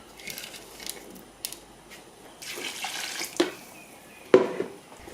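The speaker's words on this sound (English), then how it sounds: "add some more water" Water splashes and pours into a cooking pot of Trinidadian red bean pelau in short bursts, with a few clanks of metal near the microphone.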